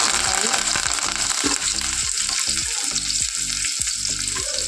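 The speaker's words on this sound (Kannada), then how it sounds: "ಈರುಳ್ಳಿ ಹಾಕೊಂಡಿದ ನಂತರ ಈರುಳ್ಳಿ ಚೆನ್ನಾಗಿ ಫ್ರೈ" Onions fry in a pan after mustard seeds, a loud continuous sizzle broken by rhythmic knocks of a spatula stirring against the pan, close up and without speech.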